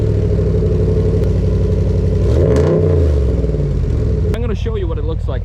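A 2020 Ram Rebel pickup with a modified exhaust and the muffler removed revs loudly, the engine rising and falling in one close, throaty sweep under background speech.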